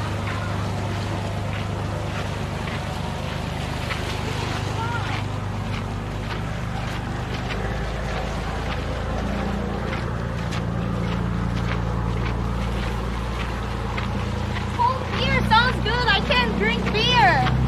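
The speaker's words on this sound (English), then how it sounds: "유람선이야, 저 유람선." A cruise ship passes near the coast of Manji island, Korea: a steady low engine drone and rushing water and wind, with people chatting nearby and a sharper burst of sound toward the end.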